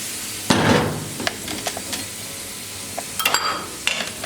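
Garlic for a dal tadka, fried golden in oil in a pan, sizzles and crackles loudly at first, then settles into a softer frying hiss with scattered clinks of a utensil against the pan.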